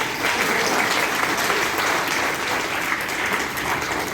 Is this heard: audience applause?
yes